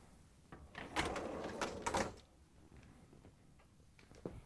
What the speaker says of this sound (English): Pull out the lower dish rack.